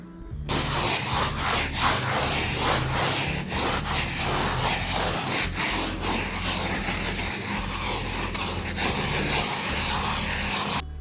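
A carpet is scrubbed hard during a home deep clean, a loud, continuous rasping rub that runs without pause from start to finish.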